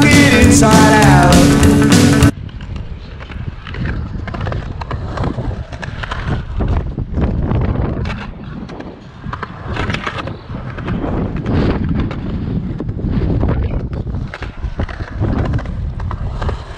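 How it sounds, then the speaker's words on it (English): Strong wind buffeting an outdoor microphone, loud and continuous rumbling gusts after a brief burst of music at the start. "It is very windy."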